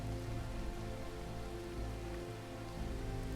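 Steady rain weather effect in the video game Space Engineers, a dense, even patter of drops on surfaces that holds at a constant, fairly loud level throughout, with no voices.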